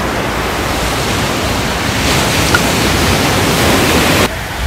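Ocean waves wash up on a beach on a sunny morning, making a steady, loud, close roar of surf with no voices.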